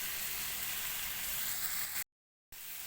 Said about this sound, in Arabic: وهندي الصلصة تشويحة كده